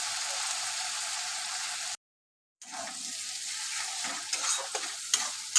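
Spice paste for mutton kosha is stirred and sautéed in a pan with a constant close sizzle. After a brief silent break, the frying returns with scraping strokes and utensil clinks growing louder toward the end.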